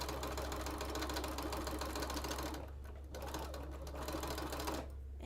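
A sewing machine stitches a quilt border, running loud and close in a fast, steady mechanical whir that pauses briefly twice before starting again.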